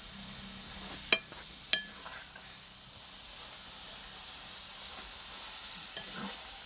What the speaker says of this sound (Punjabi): ਹੁਣ ਆਪਾਂ ਚੀਨੀ ਨੂੰ ਚੰਗੀ ਤਰ੍ਹਾਂ ਮਿਕਸ ਕਰ ਦਿੰਦੇ ਹਾਂ।